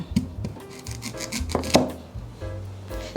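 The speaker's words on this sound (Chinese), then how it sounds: "把削好皮的芋头切下来，把芋头再切一半" A kitchen knife cutting peeled taro on a board, several distinct slicing strokes and dull knocks at an uneven pace, close and clear with no talking.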